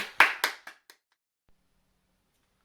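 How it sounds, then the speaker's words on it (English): A short burst of a few sharp hand claps, loud and close, quickly thinning into isolated claps before a near-silent gap and one last clap, heard during a children's drama and storytelling session. "Big round of applause for all of you."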